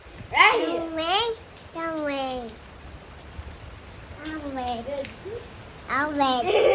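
Thunderstorm rain falls in a steady, soft hiss beneath the chatter of a child and an adult, whose voices rise in bursts over the continuous patter.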